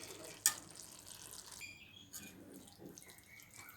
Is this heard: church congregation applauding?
no